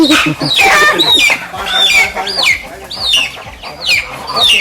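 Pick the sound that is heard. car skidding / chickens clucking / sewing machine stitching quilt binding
chickens clucking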